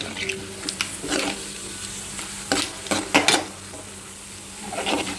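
Mustard and other tempering seeds with red chillies crackle in hot oil, giving soft intermittent sizzles and a few sharper pops over a low steady hiss, with light stirring and utensil clinks.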